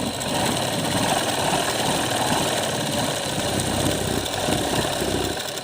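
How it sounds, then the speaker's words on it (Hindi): A sewing machine stitching lace onto a small doll dress, a dense continuous mechanical whir with a rapid vibrating rattle, close and steady throughout without pauses. "सबसे पहले हम इस तरह से एक साइड से सिलाई लगा देंगे इसको और फिर दूसरी साइड से लगा देंगे।"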